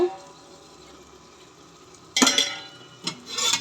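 Carrot chapati cooking on a pan with oil, a faint quiet sizzle for two seconds followed by sharp scraping and clattering bursts of a spatula turning it, close and fairly loud.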